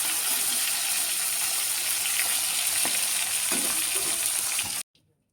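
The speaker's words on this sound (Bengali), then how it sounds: "মাছের মাথাগুলো ভাজা হয়ে গেছে" Fish heads fry in hot oil with a loud, steady close-up sizzle and occasional stirring knocks for several seconds, then cut off abruptly into near silence.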